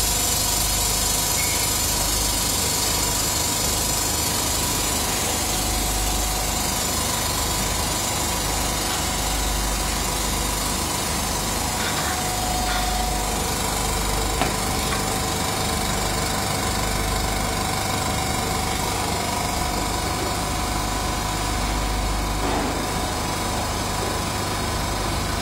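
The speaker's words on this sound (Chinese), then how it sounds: "我们把屏放进去，然后把它按启动按钮，现在是模式一，这边可以看到真空度在慢慢上升" A KO-05 vacuum laminating machine runs steadily as its vacuum slowly builds, giving a continuous mechanical hum and vibration at an even level for the whole stretch, with no talking.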